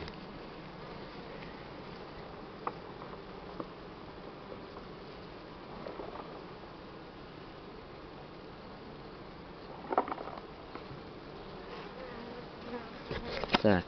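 Steady, dense buzzing of many honey bees in a hive during spraying treatment against mites, close and continuous, with occasional faint knocks and rustles near the end.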